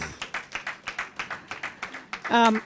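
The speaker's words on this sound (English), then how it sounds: "Give them another round of applause." Applause from an audience at a summer school closing ceremony at Montserrat Public Library: a quick run of about fourteen distinct claps, fairly close, ending in a brief voice.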